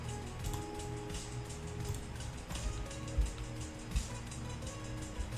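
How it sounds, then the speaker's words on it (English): Thunderstorm weather preset in Unreal Engine 5: steady dense rain patter with scattered heavier low rumbles and thumps, continuous and fairly soft throughout. "And my favorite, thunderstorm."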